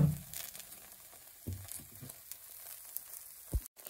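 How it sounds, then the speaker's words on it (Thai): Lao-style banh kuan dumplings fry in hot oil with a soft, steady sizzle and faint crackle, quiet and close, broken by a few light clatters. "ไปทอดกันเลย"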